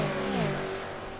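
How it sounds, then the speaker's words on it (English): V8 Supercars race cars accelerate during a winter-series enduro race in New Zealand, engines rising and falling in pitch as they pass, a fairly loud brief roar with no talk. "I just love it, the sound of the cars"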